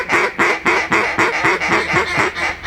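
Duck call blown in a rapid finisher sequence imitating mallard quacks, eleven evenly spaced loud nasal quacks in a steady driving rhythm, close and alone with no talk.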